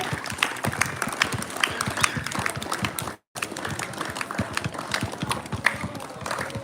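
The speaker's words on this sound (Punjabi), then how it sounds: "ਤਾਲੀਆਂ ਬਈ ਸਾਰੇ ਬੱਚੇ ਦੀ ਤਾਲੀਆਂ" A stadium crowd applauding a child, dense rapid clapping from many hands sustained for several seconds, broken by a brief dropout in the middle before resuming.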